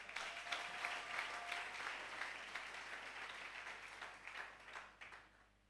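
A church congregation applauds and acclaims Jesus during worship, producing dense, sustained clapping that fills the room. It rises and falls slightly over several seconds and then thins toward the end.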